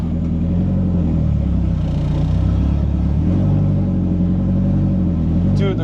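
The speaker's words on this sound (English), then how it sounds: "I'm gonna move this back into the garage." A Nissan S14 fitted with an HKS muffler idles and rolls slowly into a garage, its steady low exhaust rumble loud and close throughout, with a slight rise in revs partway through.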